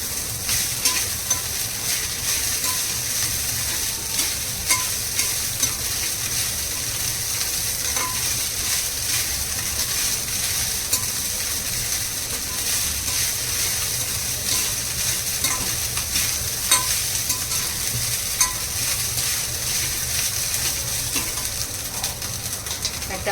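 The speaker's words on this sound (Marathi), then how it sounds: "शाबू तांदूळ चांगलं हलवून घेऊया" Sago and rice roast in a pan while being stirred, giving a steady dry hiss with scattered light scrapes and ticks that runs evenly and close throughout, with no talking.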